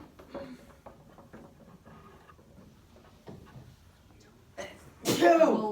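A single sharp sneeze bursts out near the end in a classroom during a test review, after quiet murmuring and scattered talk from students.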